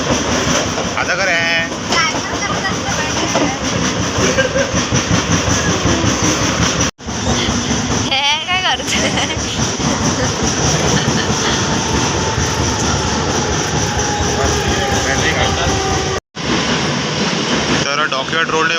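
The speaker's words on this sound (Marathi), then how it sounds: "तर आता ट्रेन इली आहे" Mumbai local train running at an early-morning station, a loud, continuous rumble and rattle of wheels and carriages close by, with voices talking over it and two brief cut-outs.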